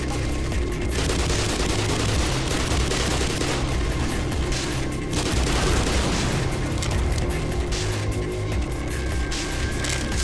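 Continuous loud gunfire from the video game Black Mesa: rapid automatic bursts and overlapping shots fill the whole stretch in a dense, unbroken fusillade, with no talking heard.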